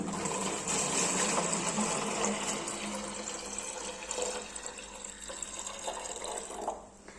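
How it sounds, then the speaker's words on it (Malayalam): Rice water poured from close by into an old bottle, a steady splashing and gurgling stream that runs without a break for several seconds and then stops, with no voices. "ഞാനിപ്പോൾ ഒരു പഴയ ബോട്ടിലാണ് എടുത്തിരിക്കുന്നത് അതിലേക്ക് ഞാൻ ഈ ഒരു കഞ്ഞിവെള്ളം ഒഴിച്ചു കൊടുക്കുകയാണ്"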